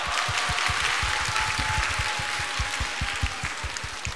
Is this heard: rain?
no